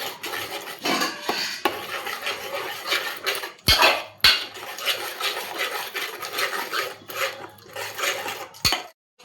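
Five eggs being stirred in a pan for bhurji, a utensil scraping and clinking against the pan in quick uneven strokes, with a few sharper taps on the rim, close and clear.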